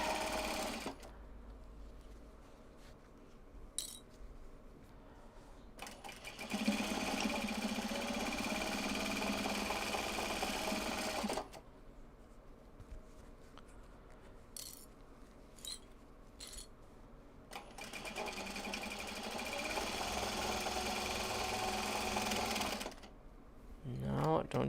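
A sewing machine winding a bobbin runs in bursts, a fast steady motor whir rising and stopping in several stretches, with quieter gaps and a person talking in between.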